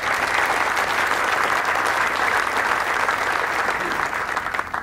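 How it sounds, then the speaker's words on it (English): Sustained audience applause at a military change of command ceremony at Fort Campbell, Kentucky, a steady dense roar of many clapping hands filling the whole stretch, loud and even with a slight fade at the end. "A round of applause, please."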